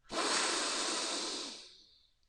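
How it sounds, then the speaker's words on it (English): A single deep breath drawn in during a seated meditation, a soft airy rush rising quickly, holding steady for over a second, then tapering off, close to the microphone with no talking. "Big breath in."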